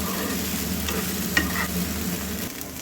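Sabudana (sago pearls) being stirred and roasted in a pan, a soft steady sizzle with light scraping and a few faint clicks of the spoon against the pan.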